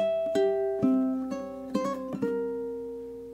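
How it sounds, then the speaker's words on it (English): Ukulele melody with quick hammer-on pull-off triplets squeezed between steadier plucked notes, close and clean, played alone. "we can add this hammer-on pull-off, which sounds super cool"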